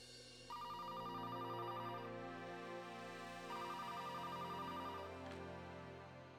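A telephone rings twice as two long electronic trilling bursts a few seconds apart, steady and clear over a low background hum, with nobody speaking.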